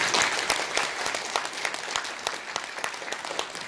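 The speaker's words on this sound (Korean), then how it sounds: "우선 박수 한번 보내주세요." Audience applause fills a Korean political rally, a dense, steady clapping from a crowd that stays loud and even throughout, with no voices rising above it.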